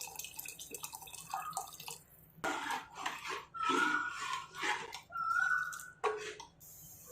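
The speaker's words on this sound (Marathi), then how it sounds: "त्याच्यानंतर आपण भाज्या ज्या उकडलेल्या होत्या त्याचं सुद्धा मी पाणी टाकून घेत आहे." Boiled-vegetable cooking water being poured into a pot of sambar, heard as intermittent splashy pours and trickles separated by short quiet gaps, fairly close.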